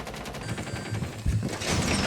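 Rapid gunfire from the video game Rainbow Six Siege, with a dense rattle of shots running continuously through the stretch and a louder burst near the end, heavy and close.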